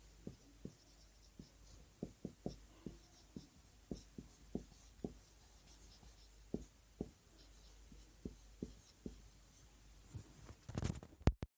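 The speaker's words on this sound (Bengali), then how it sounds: "এখন আমরা সংজ্ঞা লিখব" Pen strokes of handwriting on paper make soft, sparse taps and short scratches at an irregular, steady pace, quiet and close, with a brief louder rustle near the end and no speech.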